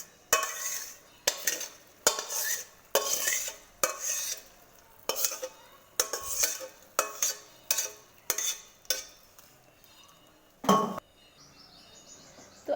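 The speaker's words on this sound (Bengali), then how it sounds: "তো আস্তে আস্তে করে নাড়াতে হবে, কারণ যাতে জমাট বেঁধে না যায় বা তলায় লেগে না যায়" A ladle moves slowly through a pot of milk with vermicelli, cashews, almonds and raisins for simui payesh, giving a series of soft, rhythmic scraping strokes against the pot bottom with short pauses between them and no speech.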